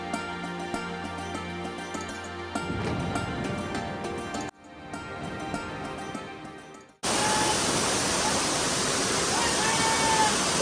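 Rushing water of Kanching Waterfall in Malaysia, a steady roar heard from high on the climb; the roar drops out briefly partway through, then returns loud and dense.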